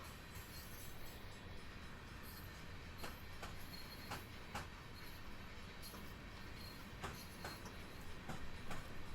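Union Pacific railroad freight cars roll past in Cheyenne, Wyoming, a continuous rumbling with regular clickety-clack wheel beats over rail joints, sustained and fairly close.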